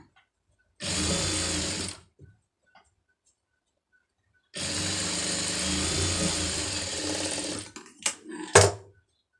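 A sewing machine stitches a dart on fabric in two runs of steady, close mechanical whirring with a quiet pause between, followed by a few short clicks.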